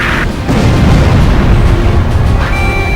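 An enemy tank blowing up in Ace Combat, heard as a sustained loud, rumbling explosion that fills the whole moment with heavy low-end roar and crackling debris, with no voices.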